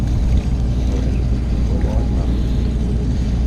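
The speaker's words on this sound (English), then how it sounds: "this generator thing over here that's running the dam is loud" A loud generator running a dam on a New Orleans bayou drones steadily and close, a dense low rumble filling the whole stretch with no letup.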